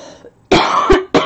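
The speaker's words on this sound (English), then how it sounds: "apologize for the incessant coughing" Two harsh coughs close together, loud and near, then a third cough starting after a short pause, with a faint breathy sound before them.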